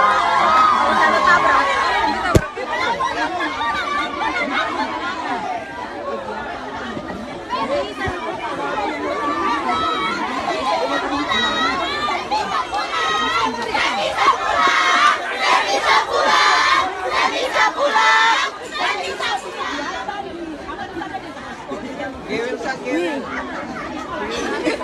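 Dozens of students jeer and shout at a teacher, a dense, loud crowd of overlapping young voices yelling and chattering continuously, swelling in intensity toward the middle.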